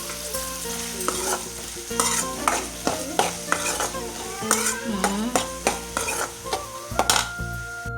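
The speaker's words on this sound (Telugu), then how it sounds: "ఆ ఆయిల్లోనే మనం ఫస్ట్ వచ్చేసి ఆనియన్స్ ఇంకా పచ్చిమిర్చి అయితే వేసుకోవాలి." Sliced onions and green chilies fry in oil left from frying eggplants, sizzling steadily while a spoon scrapes and stirs the pan in repeated, irregular strokes close by.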